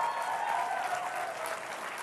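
An audience at a media conference applauds Bernie Sanders of Vermont, a steady wash of clapping at moderate distance throughout.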